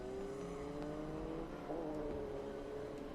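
Vintage race cars roll toward the green flag at Circuit of the Americas, a steady engine drone with rising tonal whine as a car accelerates, heard at a distance without commentary.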